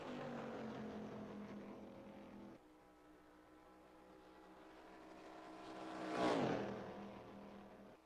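Stock car engines drone steadily in NASCAR Racing 2003 qualifying at Daytona, a loud sustained roar that drops in level partway through, then swells as a car passes close by before easing off, with no talk.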